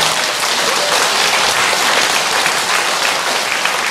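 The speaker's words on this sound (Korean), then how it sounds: "박수 한번 쳐주세요." Loud, steady applause from a temple audience at a Buddhist dharma assembly, dense clapping sustained throughout without a break or any talking over it.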